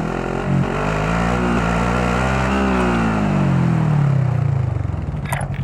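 Vehicle engine in Call of Duty Modern Warfare Warzone, a steady loud drone that climbs in pitch as it accelerates, with a rough clattering edge near the end and no voices.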